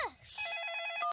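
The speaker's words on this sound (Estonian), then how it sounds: "Põõsas heliseb kellegi telefon." A telephone rings in a bush with a bright electronic trill in a Peppa Pig cartoon, one short burst of rapid repeated tones, fairly close and clear.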